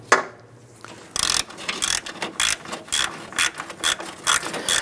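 Ratchet wrench loosening fender bolts on a 1997-2006 Jeep Wrangler, a close, loud run of rapid clicking bursts in quick rhythmic strokes after a short quiet start, with no talking.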